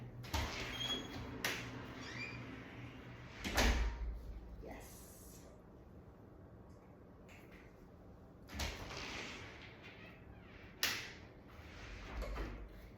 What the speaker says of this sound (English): the next step of just opening the door and shutting it